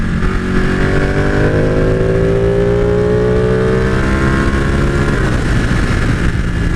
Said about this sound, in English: Let's roll off the throttle a little bit, and then going easy on.